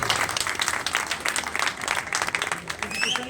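Applause fills a maize market meeting in Okara for arriving guests, a dense continuous clatter of many hands close by, with a voice speaking over the clapping.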